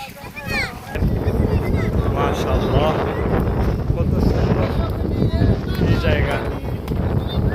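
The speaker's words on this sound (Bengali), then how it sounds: "প্রচুর বাতাস" Strong wind at Guliakhali sea beach, Sitakunda, roars and buffets the microphone in a loud, continuous rumble from about a second in, with voices faintly audible beneath it.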